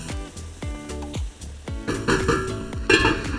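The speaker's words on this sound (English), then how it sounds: "Alright, let's give it another stir. Make sure we don't have any sticking." Onions caramelizing in a pan are stirred with a spoon, giving a rhythm of scraping strokes and soft clunks over a light sizzle that thickens toward the end.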